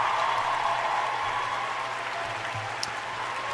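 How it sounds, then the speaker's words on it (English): Audience applause, a steady wash of clapping held evenly throughout at moderate distance. "Give them a round of applause"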